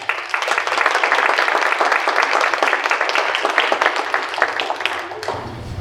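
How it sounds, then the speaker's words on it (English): Crowd applauds special agents at a family night presentation on internet safety, with loud, close clapping from many hands that stops abruptly near the end. "Let's give them one more round of applause."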